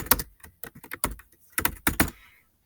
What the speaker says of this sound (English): and then type your name